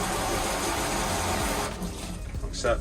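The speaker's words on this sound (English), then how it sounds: "Simply turn the water on with the handle, put it in shower mode, press the button on the top" Water runs from a 2-in-1 shower and sink combo set to shower mode, a steady rushing spray that cuts off partway through, followed by light handling noises and a brief spoken remark.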